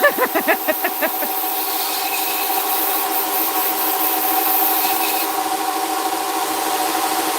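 A knife is sharpened on a running sanding belt with light pressure, giving a steady, loud mechanical whir and hiss; a few short rhythmic pulses at the start settle into an even drone.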